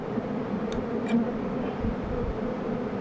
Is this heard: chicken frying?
no